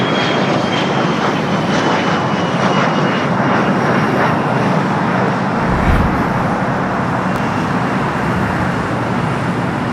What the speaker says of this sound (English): flight coming in from Casablanca, the 747-400